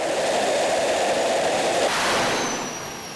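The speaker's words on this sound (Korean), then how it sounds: "엔진 점화는 2분의 예열을 거친 뒤 출력을 높여 25분간 진행되는데" A fighter jet engine roars steadily through a ground ignition and run-up test, a loud broad rushing blast that climbs in power and then eases off slightly toward the end.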